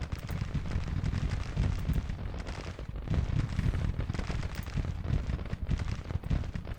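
Artillery in the Civil War strategy game Grand Tactician fires in dense, overlapping booms and rumbles. The barrage is loud and continuous, with rapid crackling shots layered over it and no voices.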